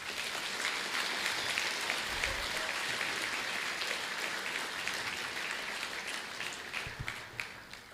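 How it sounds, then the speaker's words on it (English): Steady applause from a school commencement audience fills the room for the full stretch, broad and moderately distant, fading slightly near the end with no talk over it. "Let's give them a round of applause."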